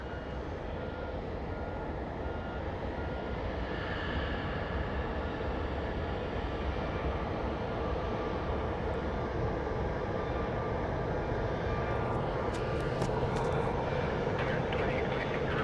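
An airplane at Phoenix Sky Harbor airport gives a steady, loud engine roar that holds throughout, with a few faint clicks toward the end.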